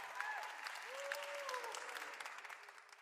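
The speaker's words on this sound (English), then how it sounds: "Can we give the Kinseys another round of applause for the incredible museum?" A panel-event audience gives a round of applause for a museum's hosts, a quiet, distant wash of clapping that holds steady and then thins out toward the end.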